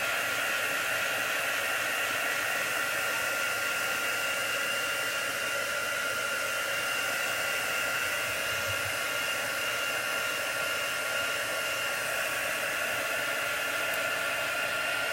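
A blow dryer drying chalk paste on a canvas banner blows with a continuous, even whooshing roar, close and unbroken throughout with no talking.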